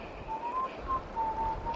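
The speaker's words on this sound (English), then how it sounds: "shut up that whistling" Someone whistles a faint, wavering tune in short phrases over a quiet background.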